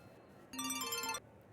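A short electronic phone ringtone chimes for about half a second, a bright melodic trill rising out of quiet room noise.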